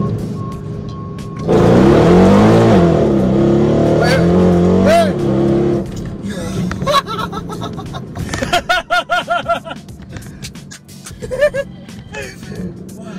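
A Mercedes E63 AMG with about 700 hp, traction control off and suspension at its firmest, launching hard in first gear with a loud rising engine roar close by for several seconds, then easing off as excited voices talk over lingering engine noise.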